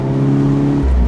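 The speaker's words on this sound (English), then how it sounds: "I think the EA113 is not a bad sounding engine" A VW Golf R Cabrio with the EA113 engine and augmented engine sound hums at a steady, close drone, then a deeper throb swells in near the end of this short moment.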